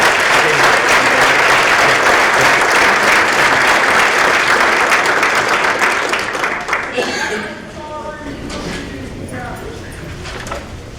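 A conference audience at a men's event applauds loudly and steadily for several seconds, then the clapping thins out and fades to scattered claps and room noise.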